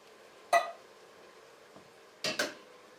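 A utensil stirs tomato sauce into thick, stew-like chili in a pot, giving a soft scrape and clink, then a quiet pause, then a quick double clink against the pot. All of it is faint and close.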